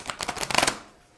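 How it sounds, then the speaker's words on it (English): A deck of tarot cards being shuffled by hand: one quick, crisp riffle of flicking cards lasting under a second, then fading out, close and fairly quiet with no talking. "see if I can shuffle these better."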